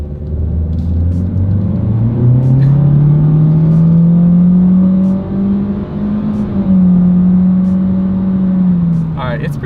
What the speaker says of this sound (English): Let's put the acceleration here to the test with the car having full control, and let's see how quickly we can get this one here up to speed